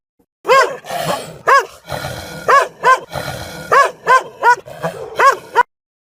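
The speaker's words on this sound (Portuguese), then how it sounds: "O som é uma espécie de rosnado rápido antes de cada latido." A dog barks about a dozen times in sharp, evenly spaced bursts, each preceded by a short rough growl, close and loud.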